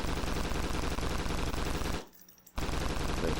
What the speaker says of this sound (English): Look, it's just firing out of that Tommy gun.